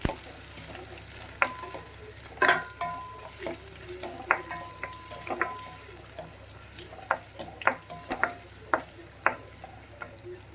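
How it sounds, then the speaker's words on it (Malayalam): Lime and date pickle ingredients frying in a pan over medium flame, with faint sizzling and scattered sharp clicks and scrapes of stirring, quiet and close, no talking. "ഒന്ന് ചെറുതായിട്ട് ഫ്രൈ ചെയ്ത് വരണം."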